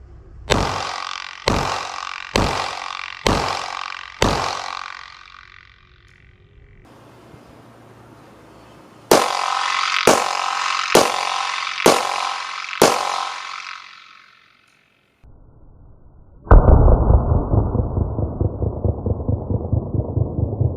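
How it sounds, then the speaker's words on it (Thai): Test firing of 9mm, .38 Super and .45 pistols: two rapid strings of five loud, sharp gunshots with ringing decays, separated by a quiet pause, then a dense sustained rumbling burst near the end. "ลองไปชมคลิปที่ได้มีการยิงทดสอบดูก่อนนะครับ"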